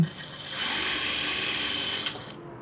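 A sewing machine stitches along the fold of a churidar, running as one steady, close whirring burst for about two seconds before it stops.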